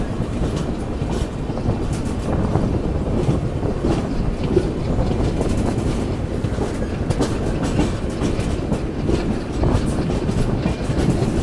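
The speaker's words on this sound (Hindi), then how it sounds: "एल्को की जो चक चक वाली आवाज़ है वो आती है या नहीं।" From aboard a sleeper-class holiday special express between Udaipur and Jaipur, hauled by an ALCO diesel locomotive, comes a continuous rolling rumble with clickety-clack from the wheels and a steady rhythmic chug, fairly loud and unbroken.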